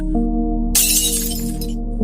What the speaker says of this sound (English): the glass shattered again. Same sound, same pattern.